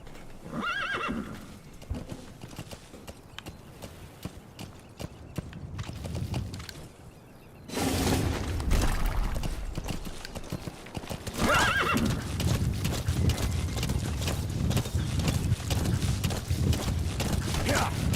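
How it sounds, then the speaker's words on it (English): Horse neighing and hooves clip-clopping in the Metal Gear Solid V: The Phantom Pain video game, with a loud whinny near the start and a steady run of hoofbeats and game sounds continuing throughout. "Come here, horsey."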